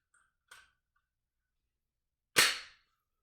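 Glock trigger dry fired with a laser training cartridge: a small click, then a single sharper, louder snap a couple of seconds later, close and isolated in silence.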